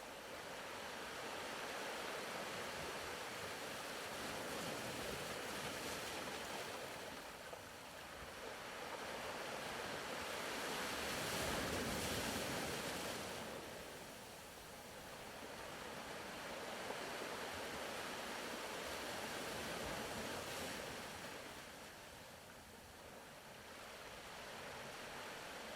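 Ocean waves wash onto the shore in slow, steady surges that swell and recede in long rhythmic cycles, a close, continuous roar of surf with no voices.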